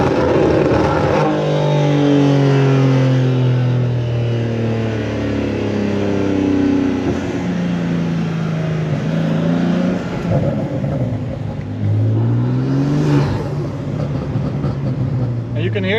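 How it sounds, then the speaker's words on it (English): A BMW M3 G80 accelerates hard on a race track, heard from the passenger seat. Its turbocharged engine note climbs and drops through the gears, with intake and turbo spooling, while people in the car talk over it. "can hear the intake spooling up with the turbos"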